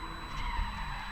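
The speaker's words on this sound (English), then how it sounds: "we can hear the engines of the cars as they race" Race car engines drone at a raceway on moorland, a steady distant motor hum with a tire-skid edge, continuous and fairly faint.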